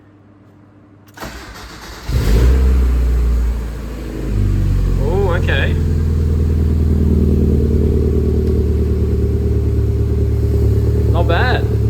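A car engine with a newly welded exhaust system cranks and fires on its first start, then settles into a loud, steady rumbling idle up close, with a brief spoken remark.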